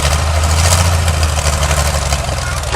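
V8 engine idling with one cylinder bank misfiring, a loud close rumbling idle with an uneven, lumpy pulse filling the whole clip.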